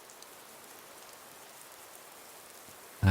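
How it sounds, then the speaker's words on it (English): Steady rain falls in the Fallout 4 game world during a zombie-filled outing, a soft even patter of drops holding at a constant moderate level before a sudden loud burst cuts in at the very end. "It's still raining."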